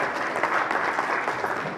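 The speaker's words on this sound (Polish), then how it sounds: "Wielkie brawa." A conference audience at a plenary session claps in a dense, continuous round of applause, moderately loud and sustained throughout.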